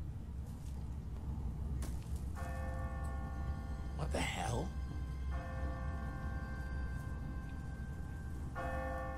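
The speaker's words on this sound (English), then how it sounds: "What kind of church bell goes off at 20 past the hour?" An automatic church bell on a timer tolls in a deserted city in The Walking Dead video game, three long ringing strikes spaced several seconds apart, with brief muttered reactions from a character in between.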